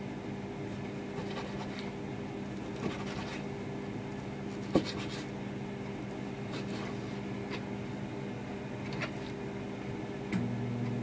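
Knife work on a cutting board, slicing shrimp in half for a sesame shrimp stir-fry: scattered soft taps and scrapes at an uneven pace, with one sharper chop partway through, over a steady low kitchen hum.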